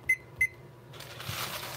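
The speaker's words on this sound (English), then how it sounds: "set the timer for 4 minutes" Two short, sharp electronic beeps from a kitchen timer being set, evenly spaced and close, followed by a soft hiss of background noise.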